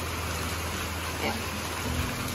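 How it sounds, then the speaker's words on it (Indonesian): Rain easing off after a heavy downpour at a riverside campsite, a steady soft patter and hiss throughout with faint voices and movement underneath. "hujan udah mulai reda sih tadi hujan deras banget"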